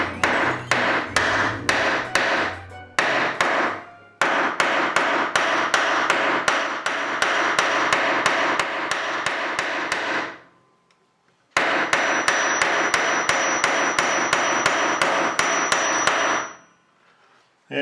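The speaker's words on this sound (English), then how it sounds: "On the back of your anvil, you just hammer it." Repeated hammer blows on lead against the back of an anvil, sharp metallic strikes in fast steady runs, broken by short pauses and one longer gap, loud and close.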